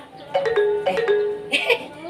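A phone ringtone plays a short run of bright melodic beeps in bursts, close and fairly loud, with no talking over it.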